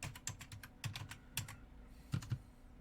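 Close, clicky keystrokes on a computer keyboard at a Unix/Solaris desktop, arriving in quick irregular bursts with short pauses between them.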